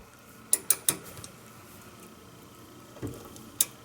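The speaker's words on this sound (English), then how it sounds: "I am going to rotate the bolt so you can see it rotating there" A socket turns the trailing arm bolt on a DeLorean, giving a handful of sharp metallic clicks and knocks. A quick cluster of three is followed by a pause, then two more, close and fairly quiet.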